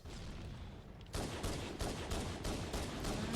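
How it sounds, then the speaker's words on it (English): Rapid bursts of video-game gunfire from a Halo match, a dense, loud barrage that breaks in about a second in and keeps pounding in repeated volleys with no voices over it. "Who is shooting me?"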